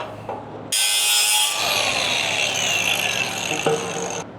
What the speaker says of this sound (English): I'm gonna go cut that on the bandsaw.